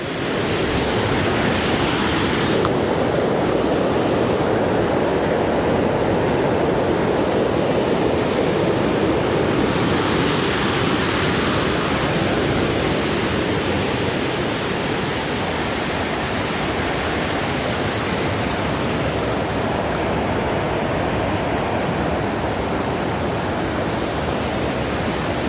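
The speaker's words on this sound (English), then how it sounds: "each time it steps down and it foams up like that, more water gets mixed into it" Water foams and churns as it cascades down a series of aeration steps, a steady, loud broadband rush like surf that continues without a break.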